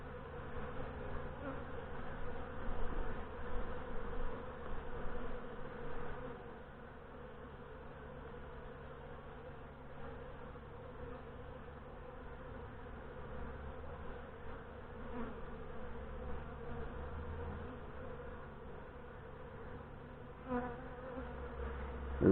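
Honey bees drone steadily inside an opened, queenless hive, a dense, continuous buzz heard up close, slightly louder in the first few seconds, with no talking.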